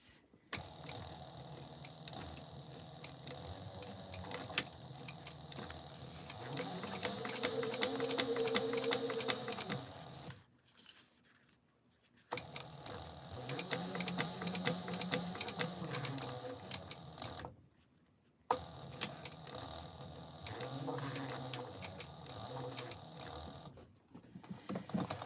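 A sewing machine top-stitches a Mini Scout sewing project by Evergreen Threads, running in three close, steady bursts of rapid needle chatter separated by brief pauses, with the motor pitch rising and falling as the stitching speeds up and slows.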